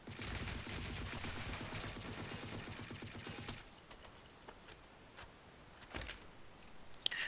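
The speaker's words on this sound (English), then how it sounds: "Now full auto." Full-auto gunfire in the video game Blackshot, a rapid even burst of shots for about three and a half seconds, then it stops, leaving a few faint clicks and ticks.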